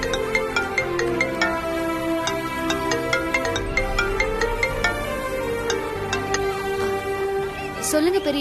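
An incoming call sets off a mobile phone ringtone in a Tamil TV serial scene, a loud melodic jingle that repeats steadily for several seconds.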